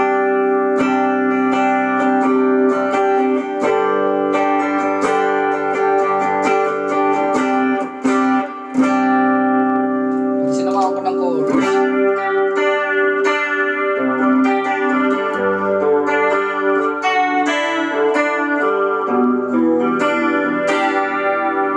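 Electric guitar through a light drive pedal for a gentle worship-team tone, strummed and picked chords with chorus shimmer and reverb, continuous and moderately loud, a brief dip midway, no voices.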